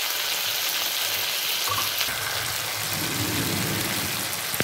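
Tomatoes fry in a black iron kadai with a steady, dense sizzle throughout, slightly rising in the second half as the cooking crackles on without any talk.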